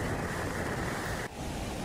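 Fast-flowing water rushes in a steady, loud, close wash near a village by a Hanuman temple in Jaijon, Doaba, with wind buffeting the microphone and no talk.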